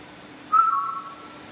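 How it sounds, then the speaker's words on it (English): A faint, thin whistle at night inside Sutton House, a single short tone rising out of quiet room hiss and fading after about half a second. "I could have sworn I heard a faint whistle."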